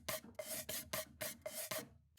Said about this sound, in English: I can use it sounds like this as an open hi-hat